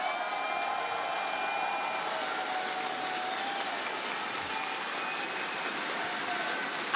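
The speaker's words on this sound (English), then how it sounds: "you're hearing the crowd, you're hearing the excitement" A large live crowd at the Six Invitational 2023 esports event for Rainbow Six Siege cheers and applauds in a steady, distant roar that holds evenly throughout with no one speaking over it.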